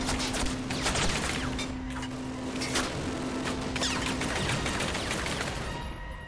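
Flak gun firing at Stuka dive bombers in a Call of Duty video game, rapid repeated heavy bursts of gunfire with a steady tone running underneath, loud and sustained, easing off near the end.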